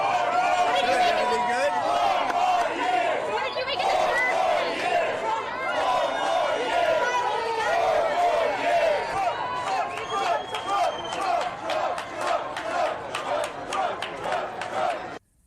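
A crowd at a Harlem bodega fills the space with loud, dense overlapping voices and shouts, close and continuous, with rhythmic chanting rising toward the end.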